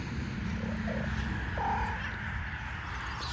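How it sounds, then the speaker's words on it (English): A deaf cat gives a couple of short, faint meows close by. A soft steady purr runs underneath in a quiet garden setting. "here's our deaf kitty."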